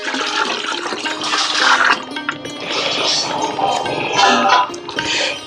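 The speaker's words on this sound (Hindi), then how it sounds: "फिर बाद में हम उसमें गोमूत्र डालते हैं 5 लीटर से 10 लीटर तक।" Cow urine gushes in a loud, continuous splashing stream into a water and cow dung mixture while making jeevamrut, with rushing, bubbling liquid throughout.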